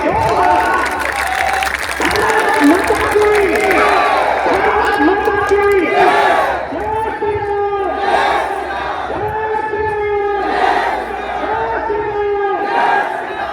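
Large crowd at an outdoor religious march loudly clapping and cheering in a sustained roar, with rhythmic chanting and shouts rising over the applause throughout.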